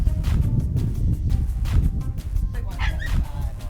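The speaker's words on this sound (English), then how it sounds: "Uh-oh, you got dogs." Dogs bark and whimper at a home during a police visit, with sharp repeated barks, higher yips and whines near the end, close and loud, mixed with voices talking.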